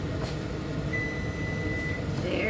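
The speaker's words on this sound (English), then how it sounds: "I've got the vent on and the dishwasher going." A kitchen vent fan and a dishwasher run together during eggplant caponata canning, giving a steady, even broadband whir with a faint tonal whine partway through and no speech.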